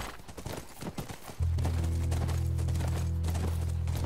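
Horse hooves clip-clop in The Last of Us Remastered on PS4, a steady close rhythm of hoofbeats at a ranch, with a low droning tone coming in partway through and no talk.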